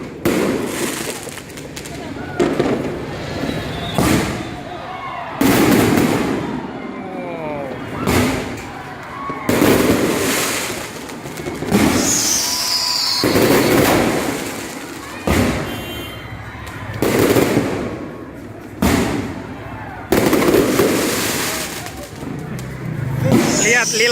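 Repeated loud booms and crackling bursts of New Year fireworks in Makassar, irregular and spaced a second or two apart, with people talking and reacting between the blasts.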